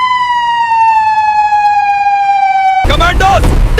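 A loud police siren wails in one long tone that slowly slides downward, then cuts off abruptly into a burst of noisy clatter.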